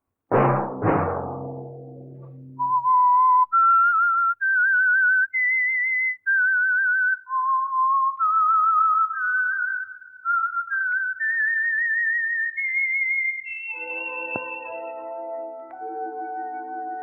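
A lone whistler carries the theme melody of The Whistler radio program, a clear, sustained tune of gliding notes played alone after a brief opening sound, ending as soft orchestral music enters underneath.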